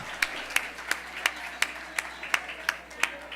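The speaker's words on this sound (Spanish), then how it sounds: "Bueno, un aplauso para ustedes." Sharp, evenly spaced hand claps, about nine in a row, in a steady rhythm over a quiet room hum.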